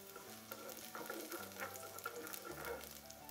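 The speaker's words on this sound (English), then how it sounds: "I'm going to give that a quick stir." Tomato sauce frying in a pan on a hot plate while being stirred, a steady close sizzle with scraping stir sounds throughout, over faint background music.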